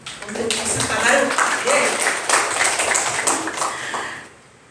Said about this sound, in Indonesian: Tepuk tangan untuk peserta baru.